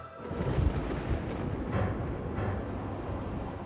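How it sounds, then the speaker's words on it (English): A summer storm's thunder rolls as a low, sustained rumble with a few heavier swells, no voices over it. "During a summer storm 5 years later, lightning again reached out to the Olsons"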